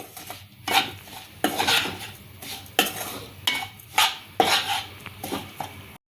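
Coarse moong dal flour being stirred in ghee in a pan for halwa: a close, repeated scrape and clatter of a spoon against metal in regular strokes, with a soft sizzle between them.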